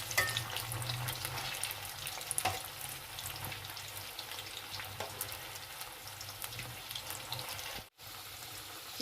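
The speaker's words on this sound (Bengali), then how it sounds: "এখন লাল করে ভাজাটা ভাজবো।" Cauliflower florets frying in a pan for a vegetarian malai gobi dish, a steady close crackling sizzle throughout with a low hum underneath and a brief dropout near the end.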